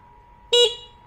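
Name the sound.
Viar C2 electric scooter horn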